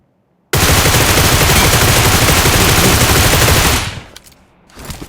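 Sustained rapid automatic gunfire in PUBG on the Erangel map, a loud, dense, continuous burst lasting about three seconds, then fading into a few fainter distant shots.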